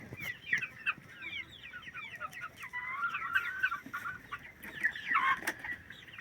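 A flock of chicks peeps and chirps continuously in high, busy overlapping calls, close by, with faint background noise.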